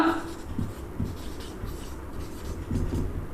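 Handwriting on paper during a maths lesson: close, soft scratching pen or pencil strokes in short uneven bursts with light taps, quiet and alone without talk.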